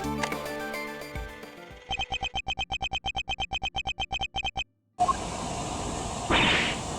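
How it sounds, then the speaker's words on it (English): A recording heard in the Ace Attorney Investigations 2 video game featuring a balloon sound, with a rapid train of about two dozen evenly spaced tonal pulses followed by a burst of broad hissing noise after a brief gap. "That's the sound of the balloon."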